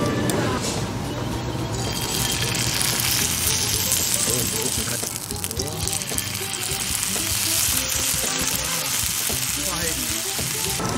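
Lobster pieces pan-frying on a yakiniku grill at a Japanese-style DIY barbecue restaurant, a loud steady sizzle running throughout under people talking.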